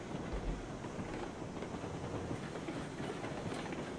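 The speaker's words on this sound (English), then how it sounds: "Yeah, that's not a bad little train." A train running on rails in the video game RailRoads Online rumbles along steadily with faint clicking and a wind-like rush, holding an even, low level with no talk.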